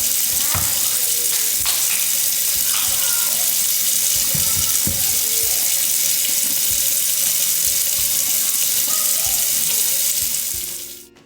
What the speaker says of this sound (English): I first gently start by just rinsing her hair through water.